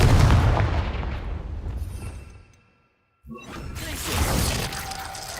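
A fiery blasting spell in a wizarding action game erupts with a loud shattering boom that decays over a couple of seconds, followed by a short silence and then a second crackling blast.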